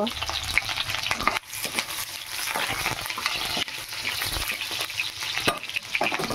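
Onions frying in hot oil in a pan while cooking a spinach and paneer curry: a steady, dense sizzle runs throughout, broken by a few stirring clatters, close and loud with no talk.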